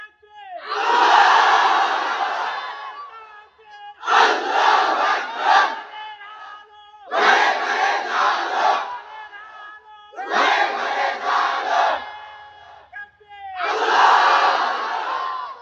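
A large crowd at a religious gathering roars a takbir response in five loud, sustained collective shouts, each lasting one to two seconds and separated by brief pauses.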